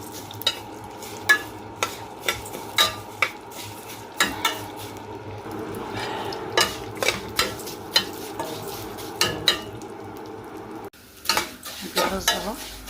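Vermicelli fries in a spoonful of oil or ghee in a pan as a spoon stirs it, with a steady close sizzle broken by regular scraping clinks of metal on the pan, and no one talks.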